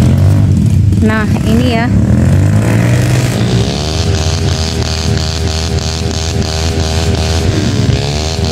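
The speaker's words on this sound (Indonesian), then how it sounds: "Ini motornya sudah rusak ini." Damaged motorcycle engine on a difficult muddy track in Indonesia, revving hard and loud up close with a rising, strained drone, while someone talks briefly at the start.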